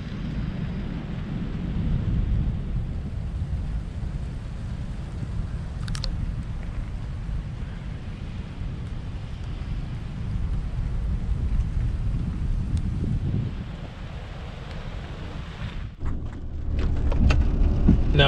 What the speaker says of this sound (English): Now the rain's starting to come down again.